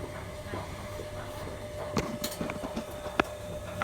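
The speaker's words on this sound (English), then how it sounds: "As our train departs" A passenger train pulling out of a station on the Hamilton West to Glasgow Central Low Level line, a faint steady rumble with a few soft clicks and a thin tonal whine, heard from on board.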